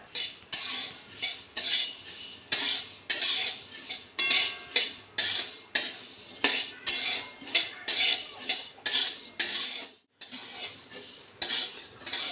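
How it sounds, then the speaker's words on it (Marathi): A spoon scrapes steadily around a pan of roasting chana dal in quick, rhythmic strokes, close and clear, with no talking. "आता भाजून घेऊयात आपण हरभऱ्याची डाळ।"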